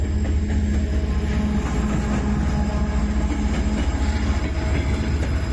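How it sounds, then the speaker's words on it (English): A train rolling through the centre of Bishkek in the evening, a loud, steady rumble with low droning tones and faint rhythmic clatter, close by and unbroken throughout. "sometimes your walk around town is disturbed by the train that comes in the evening"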